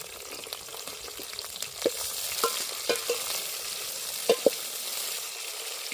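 Tomatoes and green chillies fry in a pan with a continuous close sizzle, broken by a few sharp clicks and taps of stirring.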